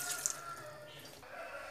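Water poured into a mixer jar holding chutney during home cooking of a Tulu-style veg kurma meal, a brief steady trickling splash heard alone at close range.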